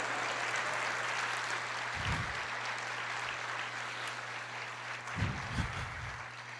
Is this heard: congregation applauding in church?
yes